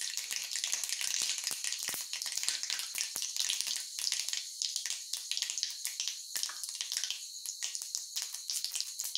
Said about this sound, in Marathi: आता आपलं तेल तापलेलं आहे. मी मोहरी टाकते.